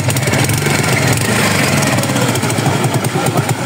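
A Honda XRM 110 motorcycle engine fitted with its stock muffler runs at a steady idle, a loud, continuous rumble with a fast, even pulse and no voices over it.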